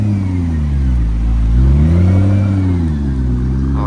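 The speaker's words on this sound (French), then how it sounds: "Ah, McLaren P1 là, qui surgit." A McLaren P1 supercar revs and accelerates past on a city street, its engine note rising and falling in a loud, close, smooth roar.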